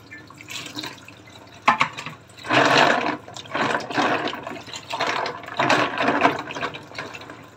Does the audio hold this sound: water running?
yes